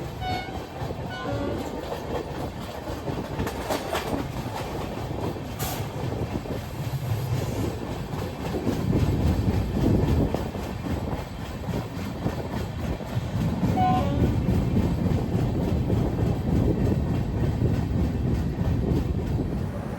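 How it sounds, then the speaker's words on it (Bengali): The Howrah–Puri Shatabdi Express slows as it enters Balasore station, rumbling and clattering along the rails, the rolling noise rising and falling as it moves, with a faint whistle early on. "এখন বালেশ্বর স্টেশন ঢুকছে কারণ ট্রেন এবার স্লো হয়ে গেছে"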